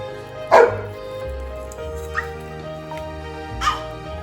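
Dogs barking on a ranch, three separate barks spaced apart, the first loudest and the others more distant, over a low steady hum.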